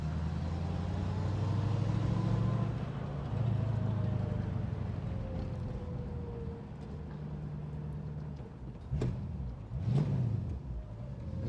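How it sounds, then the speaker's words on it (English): A 1965 Ford Mustang convertible with a V8 and a manual gearbox idles and pulls with a low, steady engine rumble, then two sharp clicks or clunks near the end as the gears are shifted, heard from close by. "So as you can see, quite a nice high first gear"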